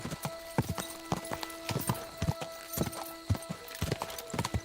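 Horse hooves clip-clop steadily at a riding pace in the medieval video game Kingdom Come Deliverance 2, with a sustained tonal hum running underneath and an occasional faint whinny.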